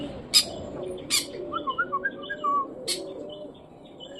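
A pet pigeon sitting on its nest calls close by, with a few sharp squawks and a run of short chirping notes, then quiet.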